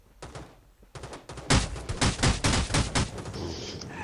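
Gunfire in the battle royale game Rules of Survival: a few single shots, then a dense rapid volley of close, loud reports over about two seconds, fading into a softer tail.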